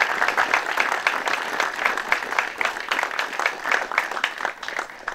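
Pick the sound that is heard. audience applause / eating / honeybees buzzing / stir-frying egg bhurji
audience applause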